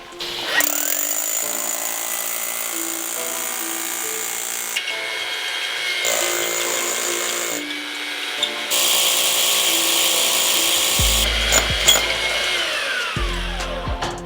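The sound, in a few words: concrete drill boring through rebar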